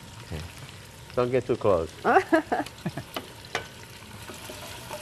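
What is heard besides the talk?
onions sizzling in a frying pan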